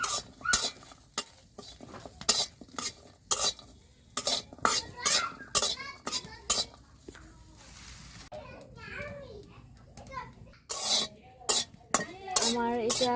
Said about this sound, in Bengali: আমি কড়াইতে রসুন আর পেঁয়াজটা কিছুক্ষণ ভেজে নেব।